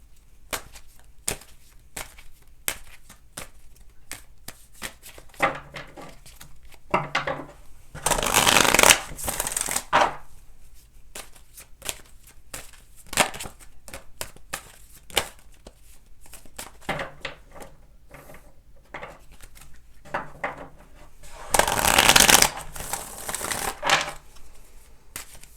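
Tarot cards are shuffled and handled close up during a reading, heard as dense crisp riffling bursts between scattered taps and flicks, with two longer loud shuffles standing out over otherwise quiet handling.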